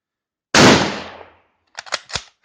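A Yugoslavian M48 Mauser rifle fires one loud, sharp shot outdoors at a range, with a long decaying echo, followed by a few quieter metallic clacks as the bolt is worked.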